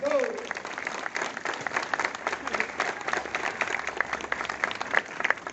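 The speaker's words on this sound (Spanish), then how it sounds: "por eso aplausos, por favor" Steady applause from a crowd at a Peruvian political event as a speaker is welcomed, a dense continuous patter of many hands throughout, with a voice briefly audible at the start.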